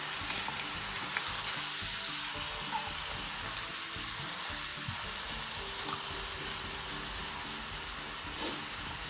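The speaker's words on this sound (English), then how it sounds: "Then we'll add in all the chili paste." Chili paste sizzling and frying in a pan for a tandoori chicken curry, a steady moderate hiss with faint crackles running throughout, no voices.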